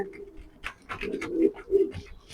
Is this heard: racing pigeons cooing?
yes